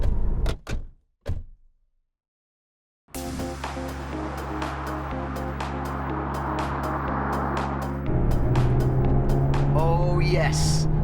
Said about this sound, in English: It's easy to forget how fast the T-Roc R is